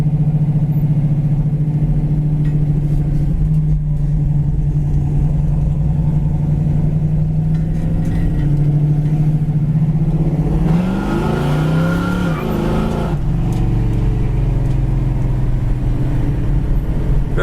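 A 1966 Ford Fairlane with a ratchet shifter being downshifted from second to first: a steady, loud engine drone that dips and surges as revs change midway, then settles back, close and with no talk.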